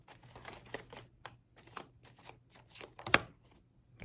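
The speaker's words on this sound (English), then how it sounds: "So we're gonna give it one more shuffle." Oversized tarot cards are shuffled by hand in a series of soft, papery riffles and slides, ending in a sharper snap near the close.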